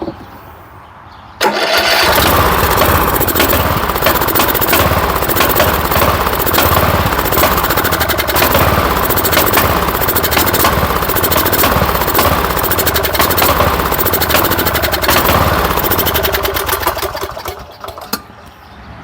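The small engine of a 2013 Cub Cadet LTX 1040 lawn tractor, after sitting unused for years, catches and runs loud and close with a steady rattling chug for a quarter minute before cutting out.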